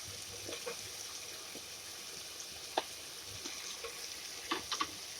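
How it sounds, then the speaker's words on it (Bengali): Potatoes fry with spices in a pan for a pumpkin, drumstick, ridge gourd and poppy seed dish, making a soft, low sizzle. Occasional faint stirring clicks sound over it, with a few louder taps near the end. "এখন ভালো করে মশলার সঙ্গে আলুটিকে ভাজতে থাকবো"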